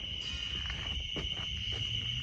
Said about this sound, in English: Like I hear crickets and stuff.